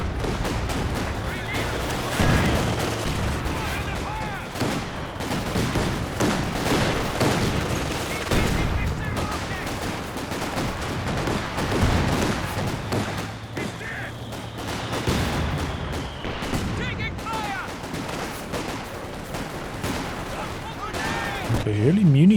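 Mortar pit shells and other gunfire thump and crack in a Company of Heroes 2 battle, with dense, repeated bursts and booms running continuously under a commentator's voice.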